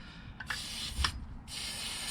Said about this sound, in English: Just spray the threads on the